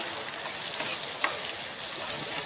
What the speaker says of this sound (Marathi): कांदा परतल्यानंतर त्यात उकडलेले कॉर्न टाकायचे।